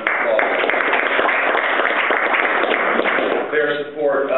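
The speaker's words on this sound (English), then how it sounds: "I wanted to give them a round of applause" Dense audience applause at a business boot camp presentation, a loud continuous wash of clapping that thins slightly near the end while a voice cuts in.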